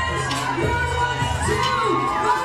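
A dense crowd at a CrossFit Open workout cheers for Rich Froning of Cookeville, Tennessee, with shouts and whoops rising over a steady roar that holds loud and constant throughout.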